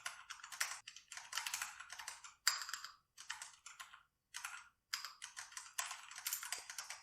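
Code being typed on a computer keyboard, quick bursts of close, crisp key clicks separated by short pauses.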